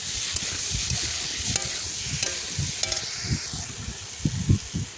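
Spice masala with chili powder sizzles and fries in a pan, a constant close hiss with repeated low scraping thumps from stirring throughout.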